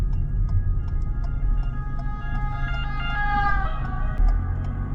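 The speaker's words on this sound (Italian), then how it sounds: "Abbiamo un'ambulanza dietro, quindi dobbiamo fermarci con urgenza" Ambulance siren on a road, rising in wailing tones as it comes up from behind a vehicle pulling over, heard over steady engine and road rumble with no talk.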